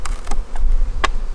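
Honey bees in an open hive during spring splits in Georgia, a steady close insect buzz with a few brief louder hums passing near, no talking.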